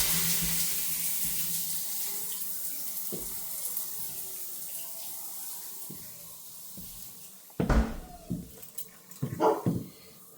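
Water runs from a shower valve with a steady hiss, joined later by a few louder splashes and clunks nearby.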